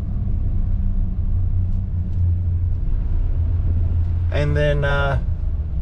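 A 2019 RAM truck of about 10,000 pounds drives and turns around, its engine a low, steady rumble inside the cab, with someone speaking briefly near the end.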